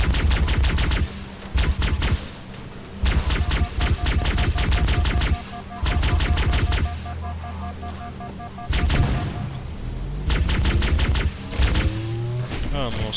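Rapid bursts of Halo video game weapon fire, loud and repeated in several volleys with short pauses, mixed with in-game explosions and effects throughout.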